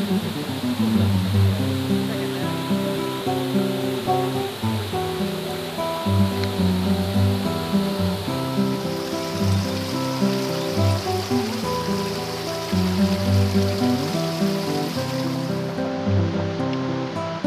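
A small babbling brook in the Réz Mountains runs steadily and close by, a continuous splashing, gurgling wash of water with no voices.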